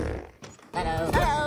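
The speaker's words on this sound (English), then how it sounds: "Oh! Fart bomb." A cartoon fart bomb goes off in the animated film Minions: The Rise of Gru, a short burst of rumbling noise followed by squeaky, creaking comic sound effects, loud and close.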